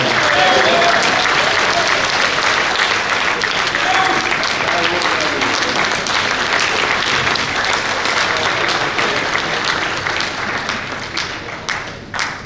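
Sustained applause from a large convention audience in a hall, dense and loud throughout, with a voice briefly audible beneath the clapping and the ovation thinning toward the end.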